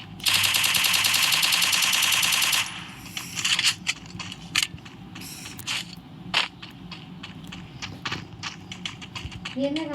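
Rapid gunfire from the Free Fire mobile game, a dense loud automatic burst at the start followed by scattered single shots and clattering in-game sounds, with a voice talking over it.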